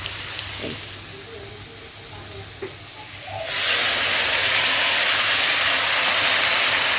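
Mustard-poppy paste lands in a pan of frying potatoes: a quiet stretch with faint clinks gives way to a loud, sustained broadband sizzle that holds steady to the end.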